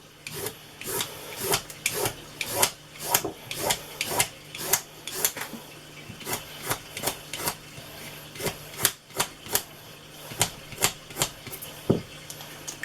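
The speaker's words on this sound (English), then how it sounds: "So, same as with your carrots, you're just going to peel them." A carrot-like vegetable being peeled for a budget cottage pie, a steady run of close, dry scraping strokes about one per half second, rasping and rhythmic with no talking.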